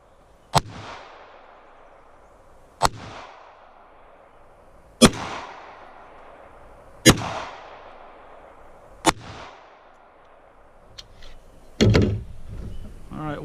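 A Walther CCP 9mm compact pistol fires five sharp, loud shots at roughly two-second intervals, each with a short echoing decay, followed by a brief clatter.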